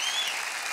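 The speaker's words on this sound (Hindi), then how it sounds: "जोरदार ताली हो जाए" A brief burst of dense, steady studio audience applause on a televised singing competition stage, loud and even with no talk over it.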